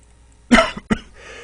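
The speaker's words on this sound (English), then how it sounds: "Sorry I keep coughing" A man coughs twice in quick succession during a pathology lecture, two short, close, throaty bursts against a quiet room.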